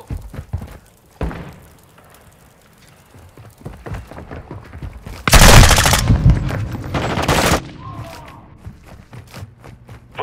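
Call of Duty: Modern Warfare II multiplayer gunfire: scattered sharp shots and thuds, then a loud sustained automatic burst lasting about two seconds followed by more rapid fire, all close and dense.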